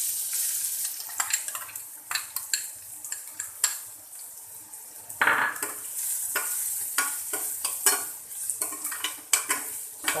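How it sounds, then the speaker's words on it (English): Onions sauté in hot ghee with a steady hiss and sizzle, while a utensil scrapes and stirs the pan in irregular close clatters throughout. "Saute the onions."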